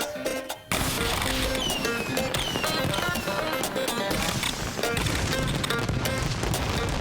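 Jubilee-themed fireworks display fired from a rooftop, a dense barrage of loud crackling bursts, booms and whistles going off continuously and close by, with no pause after the first half second.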